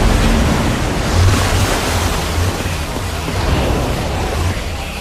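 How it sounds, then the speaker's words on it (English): Steady, loud rushing of gushing water in Minecraft: Story Mode, a continuous surf-like roar that holds without pause throughout. "I don't know how much water this thing is going to kick out"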